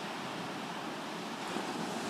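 Ocean surf at Garden City Beach, South Carolina, a steady broad wash of waves with some wind noise, continuous and fairly loud, with no voices.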